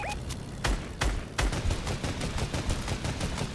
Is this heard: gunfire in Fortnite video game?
yes